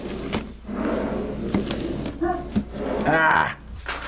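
Wooden drawers in a sign-making workshop are yanked open and shut during a hurried search, giving a few short knocks and scrapes amid voices.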